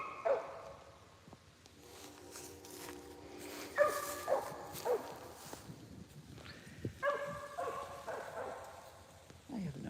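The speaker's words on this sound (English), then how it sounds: "Oh, she's barking at the" A dog barks and yips at vultures in scattered bursts, some whimpering between them, fairly distant against quiet outdoor background.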